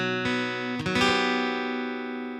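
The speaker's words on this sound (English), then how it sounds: "You know this sound. It's a guitar that's out of tune." An out-of-tune guitar is strummed twice in quick succession, each chord ringing out with many sustained, slightly clashing harmonics that slowly decay, heard clearly and alone.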